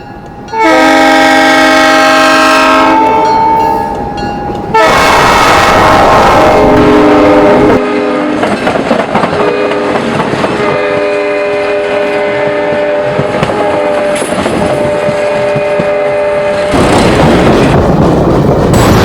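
Nickel Plate Road 765 steam locomotive in the Cuyahoga Valley at Boston Mills heading northbound, its loud multi-tone horn blasting in long sustained chords over the rumble and clatter of the passing train cars.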